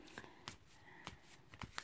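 Oracle cards being shuffled by hand, a few quick papery riffles and snaps spaced across a short, quiet stretch with no talk.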